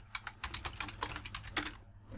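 Fingers tap rapidly on a computer keyboard, a close burst of quick uneven keystrokes for about two seconds before a short pause, with no talking.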